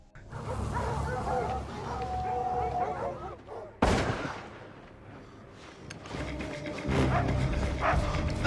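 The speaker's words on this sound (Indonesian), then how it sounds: "tiba-tiba anjing menggonggong disertai suara ledakan senjata." A dog barks amid a busy, noisy scene, then a sudden loud gunshot blast cuts in, followed by lingering rumble and more commotion.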